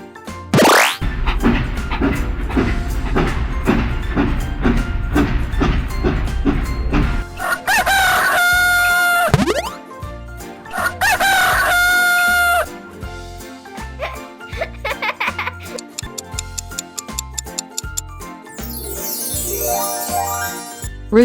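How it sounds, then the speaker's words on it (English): A rooster crows cock-a-doodle-doo in a farm animal song for children, heard clearly over a loud, rhythmic backing track with jingles. "Rooster."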